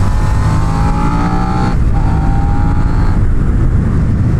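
Yamaha R3 or Suzuki SV650 motorcycle engine held in third gear at steady maintenance throttle through a corner, a loud continuous drone with a slight pitch shift midway and wind roar, no talking.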